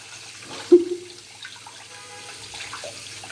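A tap runs into a sink at a steady, moderate level while a child washes her hands and mouth, with a brief splash near the start.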